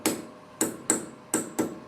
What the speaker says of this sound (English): Gentle tap with the hammer.